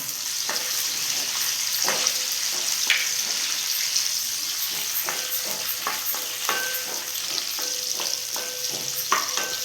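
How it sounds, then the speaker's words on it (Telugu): Steady sizzling of onion and tomato frying in a pan, with repeated clinks and scrapes of a spoon stirring the food. "పచ్చిమిర్చి వేగిన తర్వాత మళ్ళీ ఆనియన్ టమాటా వేయించు"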